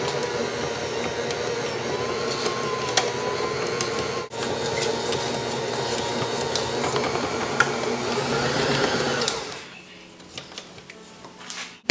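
Homemade bread dough is mixed in a bowl with a steady, whirring, motor-like drone that runs for most of the stretch. The drone then stops, leaving quieter scattered clicks and handling sounds.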